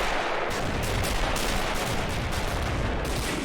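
Dense, continuous artillery and gunfire rumble in the toy-soldier war game Army Men of War, heavy blasts and crackling shots overlapping without pause at a steady loud level.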